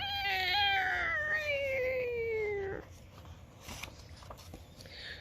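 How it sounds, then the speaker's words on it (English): A cat yowling outdoors, one long drawn-out wavering caterwaul that bends downward in pitch and fades after a few seconds, followed by quieter rustling and faint background sounds. "And it's freaking the cat outside."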